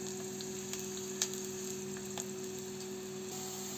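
Onions fry in hot oil with a steady, even sizzle close by, broken by a few faint clicks and a light stir, with no talking.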